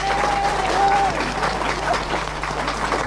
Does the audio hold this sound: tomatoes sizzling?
no